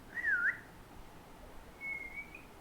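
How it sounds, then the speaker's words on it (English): Two short whistles, a quick rising-falling one followed by a softer steady tone, faint over a quiet room. "during the whistling activity"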